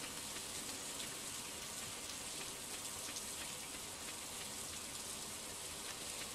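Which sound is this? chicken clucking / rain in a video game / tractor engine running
rain in a video game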